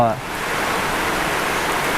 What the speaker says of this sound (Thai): ครึ้มมาแล้วก็ ตามมาด้วยฝนครับ